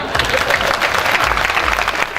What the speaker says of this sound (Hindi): बात समझ में आ रही है तो ताली बजाओ।